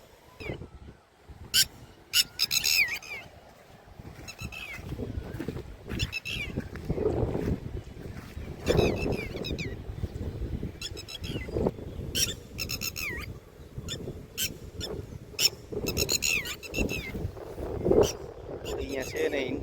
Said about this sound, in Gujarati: તો ટીટોડી બોલે છે, અહીંયા એના ઈંડા હોય એવું લાગે છે.